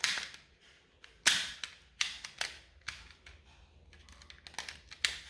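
A fidget toy puzzle being shuffled by hand: a quiet, irregular run of small plastic clicks and clacks, some sharper snaps among softer rattles, close up with no talking.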